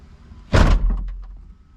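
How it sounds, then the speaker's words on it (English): A single solid thunk as the door of a Nissan 300ZX is shut, followed by a brief low rattle and settling of the body, close and loud. "Close the door."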